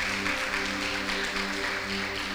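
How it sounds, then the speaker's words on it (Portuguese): Worshippers clap together in church to praise the Lord, a steady, unbroken wash of applause over sustained keyboard chords. "Vamos aplaudir o Senhor por"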